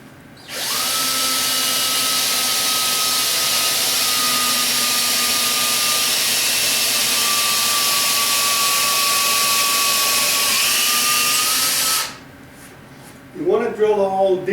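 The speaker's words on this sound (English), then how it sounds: "So the first thing we do is drill a hole." A power drill bores a hole into wooden furniture for a blind screw plug, one sustained loud whine lasting about eleven seconds, its pitch dipping slightly before it stops, followed by a voice speaking.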